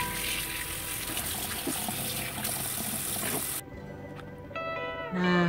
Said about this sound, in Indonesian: Lalu cuci ya, cuci sampai bersih.